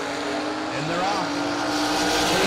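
Drag race cars, including a 1968 Camaro door car, launch off the line at a drag strip with a loud, dense roar that swells steadily, an announcer's voice over it.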